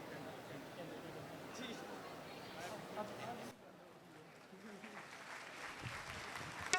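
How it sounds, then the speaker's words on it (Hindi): Sustained applause from a congregation at a Catholic Mass for a 75th jubilee during the Mariamabad pilgrimage, as bishops gather to light a candle. Dense, steady clapping fills the hall, with crowd murmur and a voice over it. "जोरदार तालियां, जोरदार तालियां"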